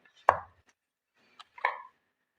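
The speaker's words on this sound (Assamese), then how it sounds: "মই পিচ পিচকৈ কাটি এইদৰে উলিয়াই ল'লোঁ" Atta mithai being cut into pieces, two or three separate knife strokes against a board, close and fairly quiet with near-silence between them.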